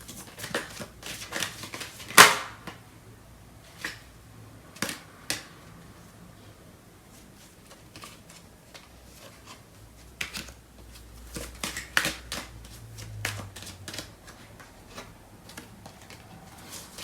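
Tarot cards are shuffled and handled, producing sparse, faint, close riffles and crisp ticks scattered over a quiet room with no talk.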